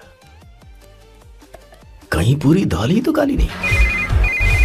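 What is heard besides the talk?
phone ringtone, incoming call from sister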